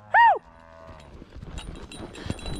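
A Nelore cow on a farm lets out a single short, loud moo at the very start, followed by quieter low rumbling and scattered outdoor noise.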